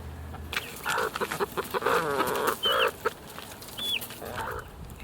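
Backyard chickens in a vegetable garden cluck and murmur close by, with several short bursts of clucking and a couple of brief high chirps over a quiet outdoor background.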